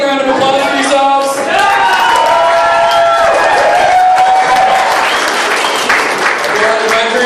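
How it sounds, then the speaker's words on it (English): Volunteers at a community meal-packaging event in Clovis give themselves a big round of applause. The loud, close crowd clapping runs throughout, mixed with cheering and whooping voices. "big round of applause for yourselves."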